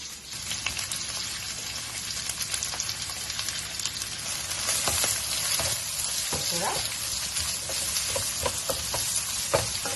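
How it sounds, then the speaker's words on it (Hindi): Onions sizzle in hot oil in a kadhai, a dense continuous crackle and hiss with occasional stirring scrapes, close and steady throughout. "तेल गर्म हो गया है। अब इसमें हम ध्यान से अनियंस डाल देंगे।"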